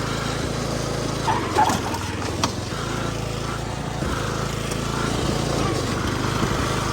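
A custom John Deere racing mower drives with a steady, loud engine drone that holds throughout, rising slightly toward the end, with a person talking over it.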